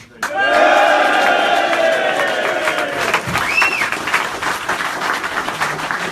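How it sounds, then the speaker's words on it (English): At a UKIP rally in Stoke-on-Trent, a crowd bursts into loud cheering, clapping and whooping for candidate Paul Nuttall, a sustained wall of applause with shouted calls rising over it. "one last cheer please for our candidate for Stoke."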